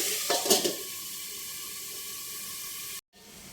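Onions sautéing in a pan for egg curry give a steady, moderate sizzle, with a few brief clatters of stirring near the start and a short break just before the end.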